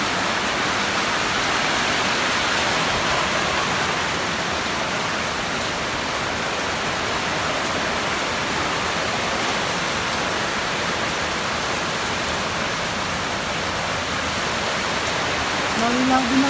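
Heavy rain pours steadily and loudly throughout, a dense unbroken hiss of drops falling near a chili pepper plant laden with fruit.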